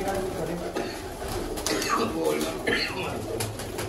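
Domestic parwazi pigeons, kept and bred for sale with their young, coo softly and repeatedly in a loft, steady under a constant background hum with some voice-like sound mixed in.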